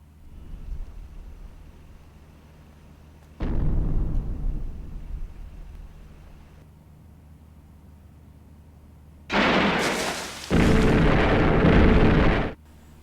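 Bombs explode in the film Shin Godzilla: one sharp boom rolls off into a long fade, then a pair of loud, roaring blasts follow close together, each thick and sustained.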